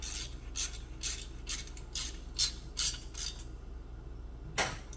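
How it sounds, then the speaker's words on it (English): A ratcheting wrench tightening a nut on a Harley-Davidson motorcycle shifter rod, giving about eight quick, evenly spaced clicking strokes, then a pause and one final click, close up and with no talk. "So I'm just going to use a ratcheting wrench"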